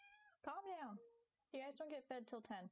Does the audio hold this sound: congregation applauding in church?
no